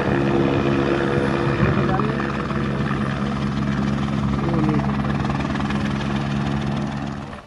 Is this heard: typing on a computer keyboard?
no